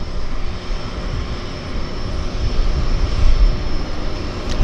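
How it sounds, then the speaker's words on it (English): A Twin Otter floatplane arriving from Victoria at Vancouver's downtown harbour drones steadily with a broad engine roar that swells slightly louder toward the end. "the first Twin Otter arrival flight from Victoria"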